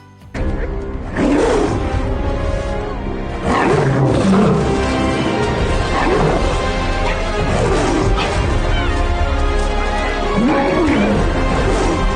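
Lions roaring, several powerful deep roars rising and falling in sequence at close range, with grunting breaths between them and no one speaking.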